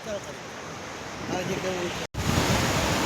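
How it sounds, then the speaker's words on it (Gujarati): Water flowing steadily along the Narmada canal, a broad, continuous rushing wash heard close up, with a brief dropout near the end and faint voices in the background. "અમારા વતનમાંથી પણ નર્મદાની નહેર વહી રહી છે"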